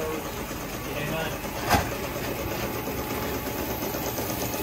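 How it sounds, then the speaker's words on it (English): A miniature undertype steam engine runs with a steady, even mechanical chugging hum throughout, one brief clunk partway through. "This is Codwin's undertype engine"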